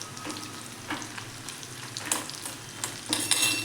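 Cumin, red chilies and bay leaf sizzle in a hot tempering for dhaba-style dal tadka, a steady close crackle with sharper pops and stirring scrapes that grow louder toward the end.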